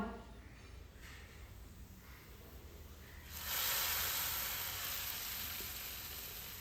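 A hot tempering of well-browned shallots and curry leaves poured into a raw plantain and egg dish erupts in a loud, close hiss partway through, then settles into a steady, slowly fading sizzle.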